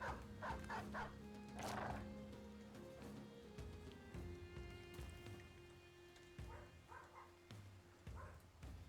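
A dog barks repeatedly in the Battle Brothers video game, a quick cluster of barks early on over a steady game backdrop of low tones and rain-like hiss, with a few fainter barks near the end.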